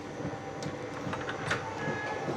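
An Indian train runs along the tracks, a steady rumbling roll heard from on board with faint rhythmic clatter of wheels over rail joints throughout.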